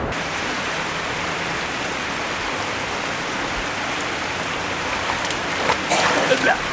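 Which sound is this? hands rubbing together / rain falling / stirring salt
rain falling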